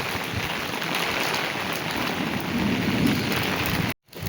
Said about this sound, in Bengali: অনেকদিন পর আমি বৃষ্টিতে ভিজতেছি